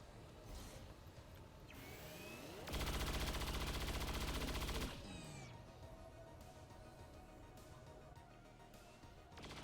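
Cyclic gunfire in the strategy game XCOM 2 Long War of the Chosen, a sustained rapid burst of shots lasting about two seconds, framed by shorter weapon sounds and scattered game effects.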